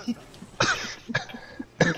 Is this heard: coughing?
yes